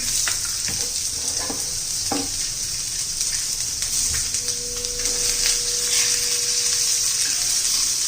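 Onion sizzles and crackles in a pan while being fried alongside coconut for a bitter gourd dish, with steady frying hiss, a few scraping stir sounds and a faint tonal hum partway through.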